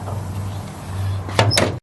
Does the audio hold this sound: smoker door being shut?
yes